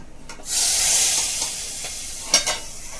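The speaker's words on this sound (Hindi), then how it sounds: "तड़का लगा दिए।" Hot oil hisses and sizzles steadily as spices and red chilli powder are tempered for a pea and makhana curry, with a loud crackling flare at first and a few sharp pops later.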